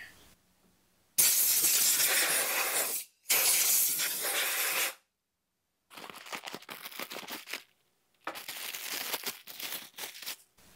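Compressed air blasting grass and dirt off a Kawasaki FH430V mower engine on an Exmark, several loud hissing bursts of a few seconds each with short pauses between, nearby and without talk.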